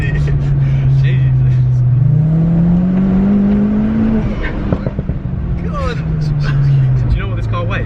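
A modified car accelerates on a drive, its engine note climbing and settling in long smooth sweeps, loud and close, with people talking over it.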